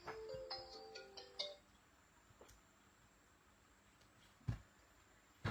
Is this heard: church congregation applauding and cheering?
no